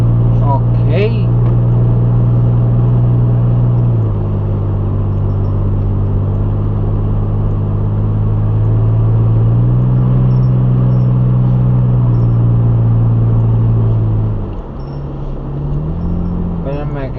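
A car driving slowly along a 45 mph road out of Lumberport, a loud, steady engine drone whose pitch shifts up and down with the gears and eases near the end, with no talk over it.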